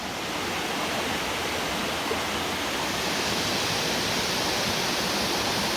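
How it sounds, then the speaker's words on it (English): A waterfall roars steadily, a dense, continuous wash of falling water heard fairly close and loud throughout, with no voices over it. "And there is the waterfall."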